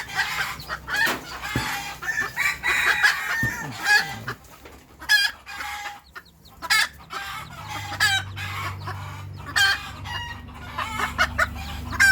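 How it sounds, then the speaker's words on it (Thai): A mother hen clucking repeatedly while herding her chicks on a farm, the calls coming in short bursts over an irregular rhythm, near and fairly loud, with a rooster and chick peeps mixed in. "นี่คือถ้าแม่ไก่เขาร้องแบบเนี้ย"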